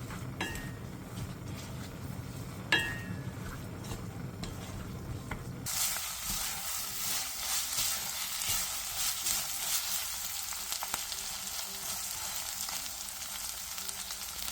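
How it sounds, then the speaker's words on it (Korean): Chili powder and soy sauce stir-frying with vegetables and meat in a pot over medium heat, a steady close sizzle with a few spoon clinks early on, then a brighter, louder hiss of frying for the rest. "고춧가루 2스푼, 진간장 1스푼을 넣고 중불에서 5분에서 6분간 볶아주세요."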